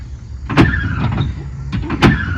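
Pop-up headlights on a 1981 Chevrolet Corvette rise with short electric motor whirs, two distinct bursts about a second and a half apart, close by and fairly loud against a low background rumble.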